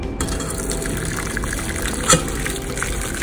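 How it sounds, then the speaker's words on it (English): Boiling hot water pours steadily into a clean bowl in a kitchen, a continuous near liquid rush with a brief clink partway through and no talking. "I'm gonna put in some hot, boiling hot water."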